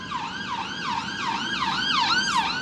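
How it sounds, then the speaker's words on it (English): An ambulance siren wails in steady rising and falling sweeps as it passes through city traffic in Edinburgh, loud and continuous and growing stronger toward the end. "there is an ambulance about to take over"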